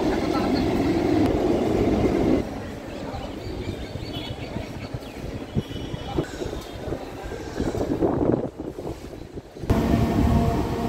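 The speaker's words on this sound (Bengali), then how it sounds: "এটা স্টেশন সাঁইথিয়া, ট্রেন ঢুকছে বর্ধমানগামী মেমু প্যাসেঞ্জার।" A Bardhaman-bound MEMU passenger train pulls into Sainthia station with a rumbling, rolling roar and some wind buffeting, and someone speaks over the noise.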